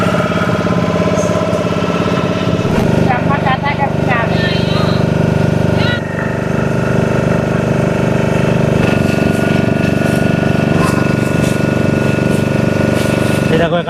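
A fishing boat's engine runs steadily at a river jetty near Parikhi beach, a continuous low mechanical drone with chugging texture throughout, while voices and other background activity carry on around it.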